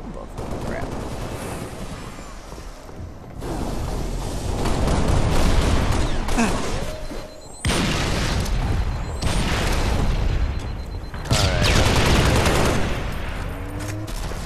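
Rapid gunfire bursts from Halo: Reach Team Slayer multiplayer, with pistol shots among loud, dense volleys and booms that run almost continuously through the fight, with only brief lulls.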